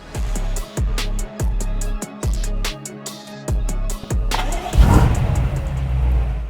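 A BMW M5 engine running rough and misfiring, its idle broken into uneven repeated bursts with gaps between, close and fairly loud, ending in a steadier rising rumble.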